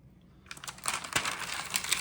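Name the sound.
crinkling of glassine stamp album pages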